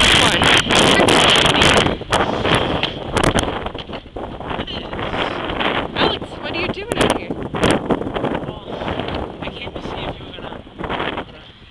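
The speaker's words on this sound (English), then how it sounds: "It's so windy." Strong gusting wind buffets the microphone outdoors, roaring loudest in the first two seconds and then easing to a steady rush, with people talking over it.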